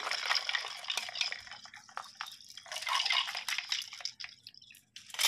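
Soapy water poured out of a container while a fishing lure is rinsed, close splashing and trickling with a few drips, fading briefly before another splash near the end; no speech.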